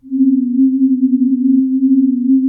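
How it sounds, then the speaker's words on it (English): A plain synthesizer sine-wave pad, modulated by three LFOs, holds as a loud, pure low tone with a gentle wobble in level, steady and alone with no voices. "since this is just a sine wave"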